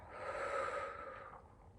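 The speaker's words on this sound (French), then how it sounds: "Quand j'inspire et quand j'expire." A person breathes slowly and deeply during a breathing exercise for the abdomen, one long soft airy breath that fades out, close and quiet.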